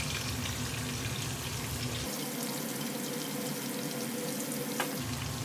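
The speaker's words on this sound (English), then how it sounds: "I'll put the garam masala in the spices, in the oil just to wake them up, bring them alive. Now the onions," Onions and green peppers hit hot oil spiced with garam masala, producing a loud, dense, continuous sizzle that stays even from start to finish.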